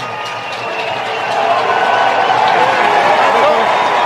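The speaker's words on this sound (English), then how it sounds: "You hear that little bit of cheering at the end." Football stadium crowd before kickoff: a broad wash of distant cheering and clapping that swells partway through and stays raised to the end, with voices blending into the roar.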